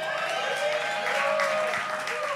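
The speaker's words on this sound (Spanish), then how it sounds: "Aplaudan que pagan." Audience clapping at a live Venezuelan talk-show taping with music, a continuous even burst of applause from the crowd, mixed with a faint sustained tonal background and no clear speech on top.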